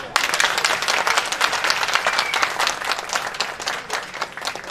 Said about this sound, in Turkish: Alkış az buldu, alkış gelmedi diye.